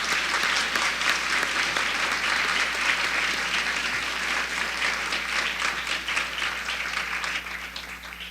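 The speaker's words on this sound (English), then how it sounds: "Let's give them another warm round of applause." Applause from a convocation audience after a performance, a dense sustained wash of many hands clapping, loud and steady before easing slightly toward the end.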